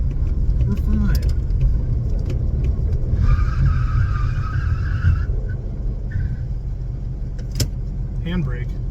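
A classic VW Beetle drives with a steady, rough engine drone, then stops on its handbrake with a brief scraping skid. Voices talk over it.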